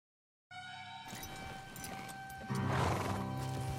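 In Red Dead Redemption 2, a horse whinnies loudly and up close while hooves clip-clop beneath it. Near the end the hoofbeats grow louder and denser as the horse speeds up. There is no talking.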